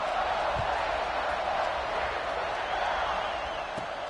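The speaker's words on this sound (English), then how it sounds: "this crowd is buzzing after that last score" A college football stadium crowd buzzes in a dense, steady roar just after a touchdown, before the kickoff, with a few faint thumps under the wash of noise.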